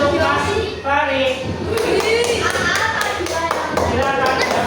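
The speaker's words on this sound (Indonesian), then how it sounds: "Tepuk tangan untuk Mas Farid" Classroom of fifth-grade pupils at an elementary school clapping together for a classmate who answered correctly, a dense, steady patter of many small hands with children's voices mixed in throughout.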